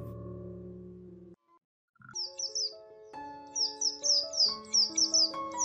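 Small birds chirp and twitter at dusk in a quick series of bright, repeated calls, growing busier toward the end, preceded by a steady low tonal drone and a brief pause of near silence.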